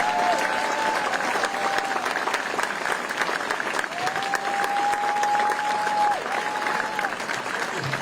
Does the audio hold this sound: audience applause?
yes